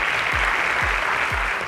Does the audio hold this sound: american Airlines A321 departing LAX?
no